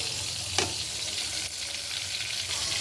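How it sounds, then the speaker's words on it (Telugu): Salted dried fish frying in leftover oil in a pan while being turned, a steady close crackling sizzle with one brief scrape partway through. "తిప్పుకుంటూ ఇవి ఫ్రై చేసుకుందాం"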